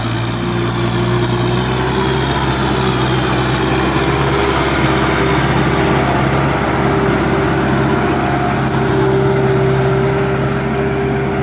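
An M6040 tractor's four-cylinder direct-injection turbo diesel engine runs steadily, loud and close, with a constant low rumble and a whining turbo tone over it.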